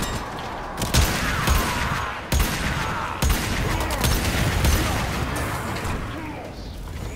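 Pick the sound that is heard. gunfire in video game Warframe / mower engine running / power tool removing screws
gunfire in video game Warframe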